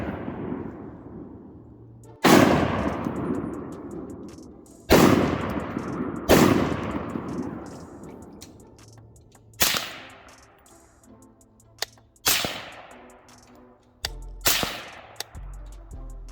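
Sharp, loud gunshots from a 16-inch .22 Magnum rifle, six separate cracks spaced a few seconds apart, each followed by a fading outdoor echo, heard alone.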